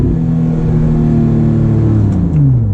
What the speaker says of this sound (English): It's got an amazing exhaust.